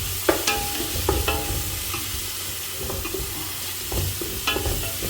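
Ginger-garlic masala sautéing in oil in a pan for Andhra-style fish curry, with a soft continuous sizzle broken by repeated spatula stirs and scrapes at an irregular rhythm, close by with no talk.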